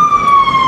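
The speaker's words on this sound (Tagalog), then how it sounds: "May fire truck!" A fire truck siren wails loud and steady on a London street, one sustained tone held through the short moment.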